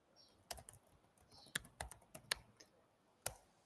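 Sharp, irregular clicks of typing on a computer keyboard, faint and close, with a few quick bursts of keystrokes and short pauses in a quiet room.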